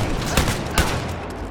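Gunfire in the video game Wolfenstein: Youngblood, a couple of sharp shots standing out over a dense, steady wash of game noise, with no talk.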